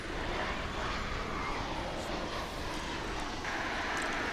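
Airliner takes off at DFW International Airport, a broad steady jet roar heard from a distance, fairly faint but continuous for the whole stretch with no voices.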